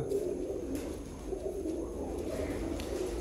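Champion pigeons in a Sialkot pigeon-keeping loft give a steady, soft cooing that runs on continuously, fairly close, with no talk over it.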